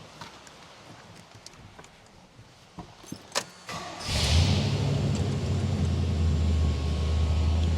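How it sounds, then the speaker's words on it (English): A Chevrolet Squarebody K2 pickup truck starts after a few clicks and clanks, then settles into a steady, close, loud idle with a deep low rumble and no talk. "This truck runs, drives, and we fire it up."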